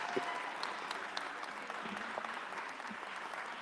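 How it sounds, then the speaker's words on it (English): Audience at a human rights conference in Washington, D.C. applauding with steady sustained clapping at moderate distance, continuous throughout. "Again, a round of applause for"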